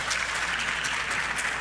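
Audience applauding in a legislative chamber during a debate on energy reform, a steady, dense wash of clapping that holds at even loudness throughout with no voices on top.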